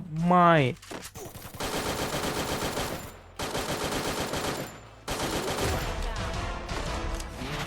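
Gunfire in the video game Free Fire: after a brief sweeping tone, rapid automatic bursts rattle on in long strings separated by short pauses, loud and close with no talk.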